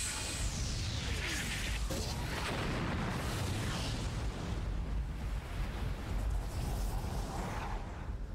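Ship cannons fire in a naval battle in the video game Suikoden IV, a loud, sustained barrage of booming blasts and rumbling roar with whooshing bursts layered throughout.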